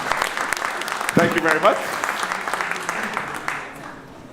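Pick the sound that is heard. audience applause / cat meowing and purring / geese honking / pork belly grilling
audience applause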